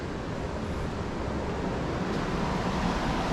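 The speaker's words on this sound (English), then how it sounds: "Fall asleep to the waves," Ocean surf rolls near a beach house on Vieques Island, Puerto Rico, a steady, dense wash of broadband noise with faint wind that holds at an even loudness throughout, with no voices.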